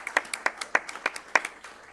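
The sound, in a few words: applause at board meeting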